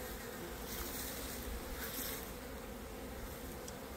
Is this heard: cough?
no